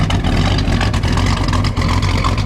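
A 1971 Buick Riviera GS 455 cubic-inch V8 idles close by with a deep, loud, steady rumble and a slightly uneven lumpy pulse, running alone without talk.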